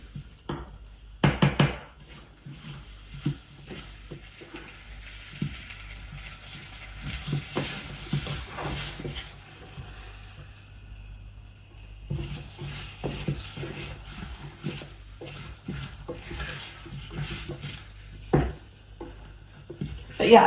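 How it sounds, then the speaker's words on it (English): Butter sizzles and crackles in a hot pan, with occasional clinks and scrapes of a utensil stirring, close and fairly quiet. "oh, the butter's melted. Oh, it's sizzling."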